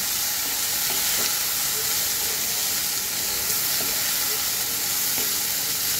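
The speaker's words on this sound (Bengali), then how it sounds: "এখন আমি এগুলোকে সুন্দর করে কষাবো" Potatoes with salt, green chilli, turmeric and coriander powder are stirred and sautéed over a low flame in a pan of fish charchari, giving a loud, continuous hiss and sizzle with faint scraping.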